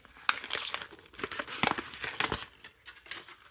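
A Mini Brands Fill the Fridge mystery capsule has its perforated plastic wrapper pulled down by the tab and unwrapped, producing close, irregular crinkling and crackling rustles in quick bursts with no speech.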